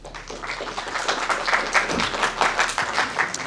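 Audience in a private cinema screening room applauding together, a dense steady patter of many hands at moderate volume that holds for a few seconds, with a brief voice breaking through near the middle.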